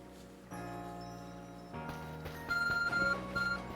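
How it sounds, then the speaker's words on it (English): Arc Phone in Pokemon Legends: Arceus gives a bright, rhythmic electronic beeping over the game's music, a repeated cluster of short tones in the second half that comes across clear and fairly loud. "Your ARC phone is beeping."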